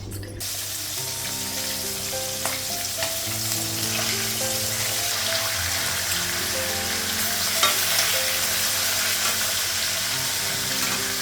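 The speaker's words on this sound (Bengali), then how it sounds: "তেলটা গরম হয়ে গেছে, এখন মাছটা ভাজবো।" Fish fries in hot oil in a home kitchen, a continuous dense sizzle that holds steady and close for the whole stretch, with a faint underlying hum and no talking.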